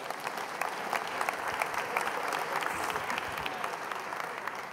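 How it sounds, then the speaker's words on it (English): Audience at a mathematics talk gives a round of applause for volunteers joining the stage: a steady, fairly distant crowd clapping that stays even throughout, with no talk over it. "Let's give these volunteers a nice round of applause."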